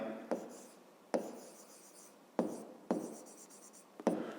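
Pen writing on paper while working a fifth-grade math exercise: several short scratchy strokes, each starting with a sharp tap and fading, close and fairly quiet, with no voice.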